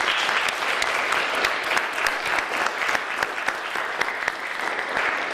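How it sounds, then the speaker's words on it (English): An audience claps steadily at an entrepreneur tour event, a dense, even wash of many hands close by, holding at a constant level throughout. "Let's give a big round of applause"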